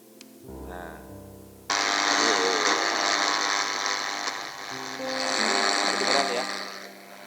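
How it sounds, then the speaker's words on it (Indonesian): A portable radio with an antenna, switched on by its on/off knob while tuned off-channel, fills the air with loud, steady broadband static hiss after a brief quieter start with low hum. "Radio ini menyala, tapi tidak pada channel yang tepat."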